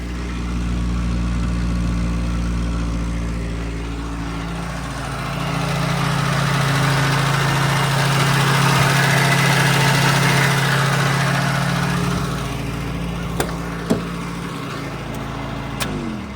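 A Nissan Be-1 engine idles slightly high while warm, a steady low mechanical hum with faint vibration running throughout, close and continuous, with a couple of brief clicks near the end.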